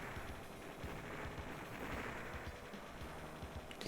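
Rapid gunfire from the Sky Alert game crackles in a dense, continuous stream of quick shots and blasts, faint overall but unbroken for several seconds.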